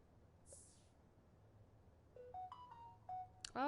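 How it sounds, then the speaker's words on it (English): Mobile phone ringtone going off faintly indoors: a short sequence of rising electronic tones that stops and starts, ending in a brighter chirp, heard over a quiet room. "that's my phone going off"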